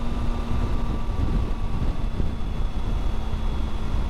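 Steady roaring crosswind buffeting the microphone during a motorcycle ride, with a low engine drone and faint whine running underneath.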